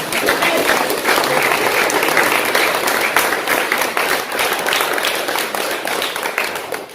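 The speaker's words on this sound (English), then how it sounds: "Please give yourselves a round of applause." A crowd gives a full, sustained round of applause, dense and loud, with many hands clapping together for several seconds before it starts to fade.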